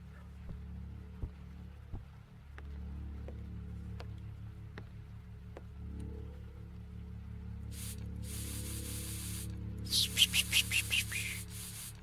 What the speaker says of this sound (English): I'm walking past the room to get the spray bottle